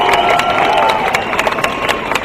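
A large outdoor rally crowd of roughly ten thousand people cheers and shouts continuously, a loud, dense wash of voices with scattered sharp claps and whistles throughout.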